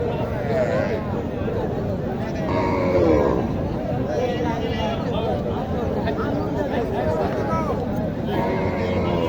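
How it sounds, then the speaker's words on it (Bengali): A crossbred cow at a busy cattle market in Naogaon, Bangladesh, gives low moos amid constant crowd chatter and bargaining voices close by. "এখানে একটি ক্রস গরু দেখেন"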